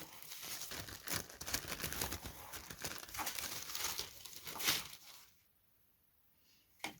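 Thin tissue paper for covering a balsa model aeroplane is cut and handled, giving a dense run of close crinkling and snipping rustles that stop abruptly near the end, leaving near silence.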